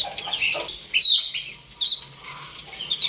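Backyard chickens, a hen with an active chick, give short clucks and chirpy calls in a few separate bursts, close and clear against a quiet background.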